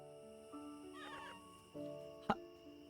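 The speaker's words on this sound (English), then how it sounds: "Was that a meow noise? She's a cat!" A cat character meows in the video game Magical Delicacy: quiet game tones and soft music, a brief mewing call in the middle, and a sharper sound near the end, all faint.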